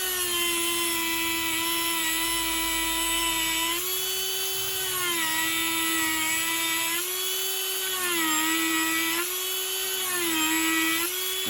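Homemade carving bit, ground from a grinding wheel, cutting walnut at 25,000 RPM: a high, steady whine from the rotary tool that dips in pitch each time the bit bears into the wood, close and continuous.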